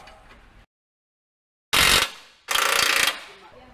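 Ratcheting wrench cranks on bull bar mounting bolts for an MR Triton Rockarmor GT, two loud close bursts of rapid clicking separated by silence.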